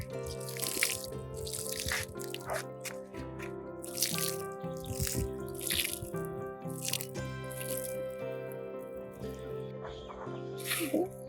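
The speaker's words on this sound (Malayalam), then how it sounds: "വിത്ത് നടുന്നതിന് മുമ്പായി നമുക്കൊന്ന് നന്നായിട്ട് നനച്ച് കൊടുക്കാം." Water poured onto potting soil in a terrace garden bed before coriander sowing, arriving in repeated splashy bursts and trickles at close range, fairly quiet, with light drips between pours.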